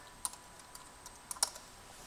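Keystrokes on a computer keyboard, a few quiet, sparse clicks spread over two seconds with one quick double tap near the middle, close and otherwise quiet.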